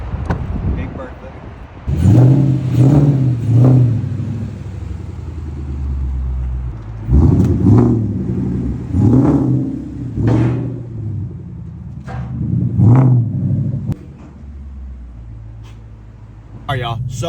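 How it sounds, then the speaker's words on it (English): Ford Mustang GT with a very loud exhaust revving repeatedly, deep rumbling surges rising and falling over a throbbing idle, close by with people talking over it. "I'm gonna rev it up a little bit so y'all can hear it"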